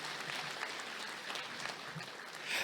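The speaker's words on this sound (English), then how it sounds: "Let's give him a big round of applause" An audience at a business conference applauds, an even, sustained round of clapping heard from the hall, with no break and a slight swell near the end.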